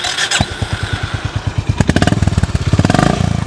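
A Honda CB350 RS motorcycle exhaust thumps at a steady idle, then rises into quicker, louder pulses as the throttle is blipped. The single-cylinder beat stays close and clear, with no talking.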